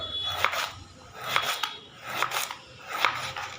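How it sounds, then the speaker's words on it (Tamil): A knife slices snake gourd thinly in a home kitchen, four separate crisp cuts spaced about a second apart, close and fairly loud with quiet pauses between them. "எந்த அளவுக்கு உங்களால் மெலிசாக கட் பண்ணுறது வருதோ அந்த அளவுக்கு மெலிசாக கட் பண்ணிங்க"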